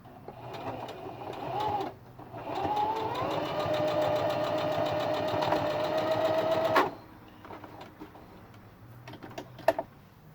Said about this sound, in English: I had my machine adjusted for some heavier fabric, so I'm having a little bit of problems with the pressure of the presser foot